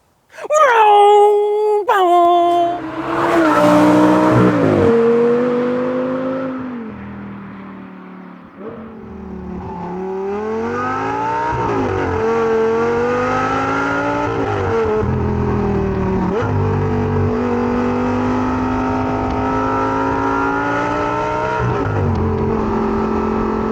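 An Audi R8 GT Spyder with a Milltek aftermarket race exhaust revs hard, climbing and dropping in pitch through several gear changes, close and continuous.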